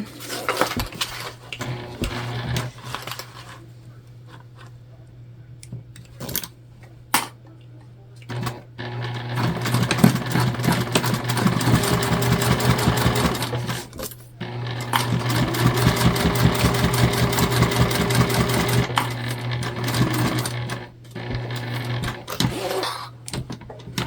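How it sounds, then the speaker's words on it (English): A sewing machine stitches a bag seam, running in several steady bursts with brief pauses between for back stitching, close and fairly loud over a constant low motor hum. "we're just gonna sew down and to about here, we'll back stitch"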